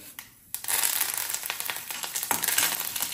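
Curry leaves hit hot oil with chana dal and burst into a loud crackling sizzle after a brief quiet start, with sharp pops scattered through the close, busy frying.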